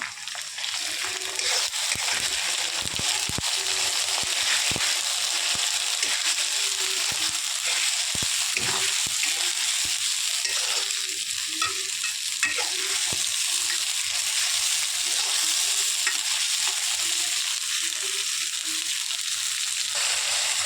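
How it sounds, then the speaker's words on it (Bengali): Spices are sautéed in a pan with a loud, continuous sizzle throughout, punctuated by frequent scraping and knocking strokes of a spatula stirring them, close and without any talking. "এখন এর মধ্যে এক এক করে মশলা দিয়ে দেব। আগে থেকে রেডি করে রেখেছিলাম। মশলা দিয়ে কষিয়ে নেব।"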